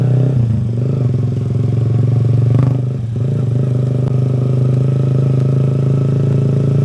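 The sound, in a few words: Yamaha XSR 155 motorcycle engine with aftermarket underbelly exhaust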